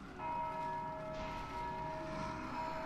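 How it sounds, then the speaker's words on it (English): A steady bell rings continuously in the Dark Souls II video game, heard alone as a sustained metallic tone at moderate, even loudness throughout, with no talk over it. "you'll hear that bell going off the entire time."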